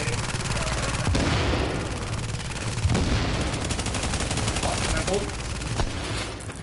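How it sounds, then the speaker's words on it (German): Gunfire in the video game The Division bursts out in dense, rapid volleys with sharp single cracks, loud and nearly continuous throughout, with a voice partly heard underneath. "Ah, da hinten schießt es natürlich auch noch"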